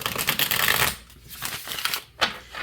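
Tarot cards shuffled by hand at close range: a dense, loud papery riffle that eases into softer, scattered flicks and slides, with one more burst near the end and no talking.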